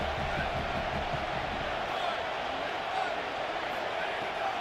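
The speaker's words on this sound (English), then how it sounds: "this crowd is turning it up a notch" Stadium crowd noise from the College Football 27 video game during a Michigan game, a steady, dense roar that swells as the drive builds, with commentators talking over it.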